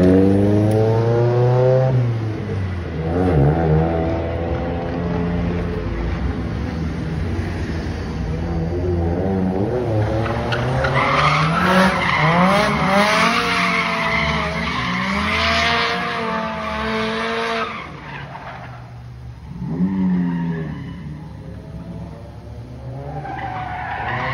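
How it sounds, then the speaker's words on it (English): Tires on a Nissan S13 with an SR20DET engine squeal and skid for a long stretch, the engine revving hard underneath as the pitch of the screech rises and falls through repeated slides. "So let's shred these tires off."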